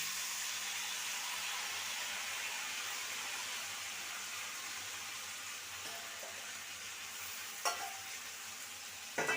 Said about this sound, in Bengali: মাছটাকে ভালো করে নেড়ে নেব